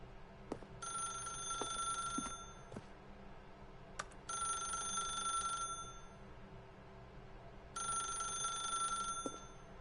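A telephone rings in The Stanley Parable: Ultra Deluxe, three bright electronic ring bursts spaced about three and a half seconds apart over quiet ambience, with no voices.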